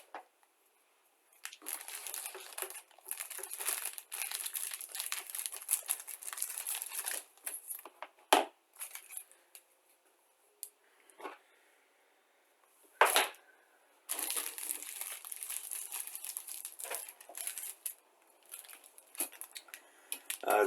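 Heat-sealed plastic bags holding model kit sprues crinkle and rustle up close in long bursts, broken by short quiet pauses and a couple of sharp crackles.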